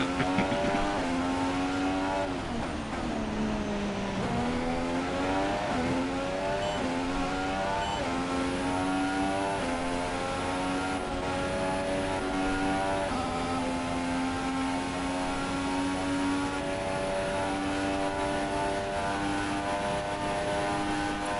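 Haas F1 car on a flying lap around the Baku street circuit in the F1 2016 racing game, its engine screaming loud and steady throughout, pitch climbing through gears with short dips at each shift and braking zone.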